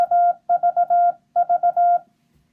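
A Morse code CW tone set to 700 Hz keys out a run of clean beeps, short and longer, in two clusters separated by a brief pause, clear and alone.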